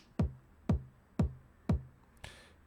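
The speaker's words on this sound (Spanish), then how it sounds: "La primera distorsión suena así." A kick drum passed through Devastor's first distortion setting hits four times at an even pace, each thump gritty with added hiss and bite, close but fairly quiet, followed by a short noisy burst.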